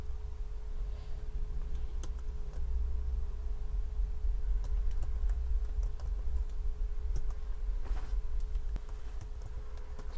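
Keys tapped on a computer keyboard while writing code to close a database connection, scattered clicks in an irregular rhythm over a steady low hum and faint room noise.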